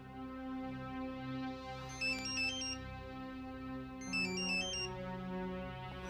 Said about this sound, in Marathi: जानकीचा फोन आहे.